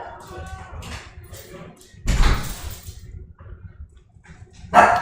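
A dog barks indoors, a single loud bark midway and another sharp bark at the end, with faint talking and room noise between.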